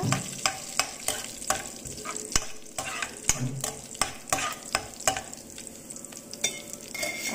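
Spices crackle and sizzle in hot oil while a utensil taps and stirs the pan in a quick, irregular rhythm.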